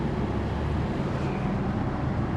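A 1994 Toyota 4Runner engine idles roughly, producing a steady, dense low rumble that fills the whole stretch at close range with no talking.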